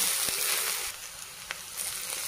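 Chopped onion frying in oil in an iron pan, cooking for egg bhurji, a steady close sizzle and crackle with a few sharp pops, no talk.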